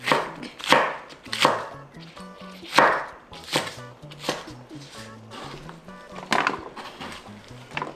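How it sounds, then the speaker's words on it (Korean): Green onion sliced with a knife on a cutting board, a series of sharp, uneven chops that come close and loud, with brief pauses between strokes and no talking. "대파 한 대. 그냥 적당히 썰어주시면 돼요."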